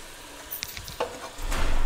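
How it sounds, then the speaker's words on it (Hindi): Onions fry gently over low heat in a pan, a soft sizzle with a few light scrapes and taps, swelling into a fuller hiss near the end. "हल्की हीट पर प्याज बिल्कुल लाइट ब्राउन होने के लिए रख देनी है"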